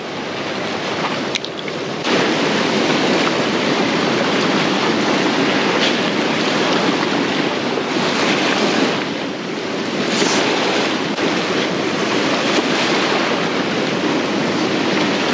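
Constant roaring rush of fast-flowing trout river water, loud and close, with no voices.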